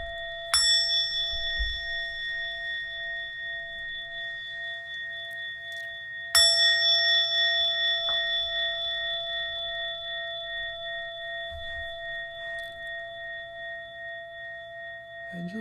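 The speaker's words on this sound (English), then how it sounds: "We'll ring the bell 3 times" A resonant bell is struck twice, each ring leaving a long, slowly fading hum in an otherwise quiet room.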